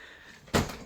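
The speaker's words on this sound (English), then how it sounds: "just put it on a drawer" A drawer is pushed shut with one brief knock-like thud after a quiet lull, with a short clatter trailing off behind it.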